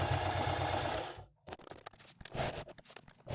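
A sewing machine stitches a box onto the fabric carry handle of a range bag, running with a dense whir for about a second before stopping. Soft scratchy fabric handling and scraping follow.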